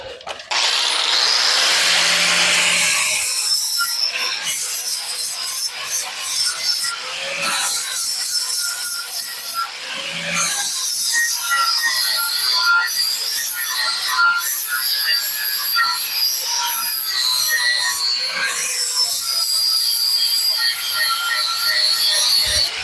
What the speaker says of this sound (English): I'll grind that down and clean it up